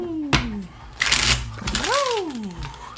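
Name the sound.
shuffling tarot cards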